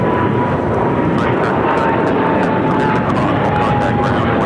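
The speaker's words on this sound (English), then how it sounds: "This is EVA Air Flight 5 taking off to Taipei on the 777-300ER." An EVA Air Boeing 777-300ER taking off at LAX, its jet engines making a steady, loud, broad roar heard from outside, with people talking over it.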